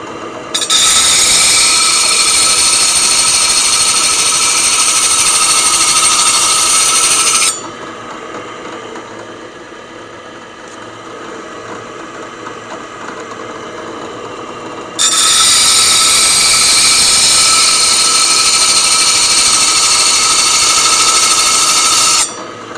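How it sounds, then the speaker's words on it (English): Carving tool being sharpened on a powered fiber wheel: a loud, bright grinding hiss in two sustained bursts of about seven seconds each, separated by a quieter stretch of motor hum. "The fiber wheel will take that burr off."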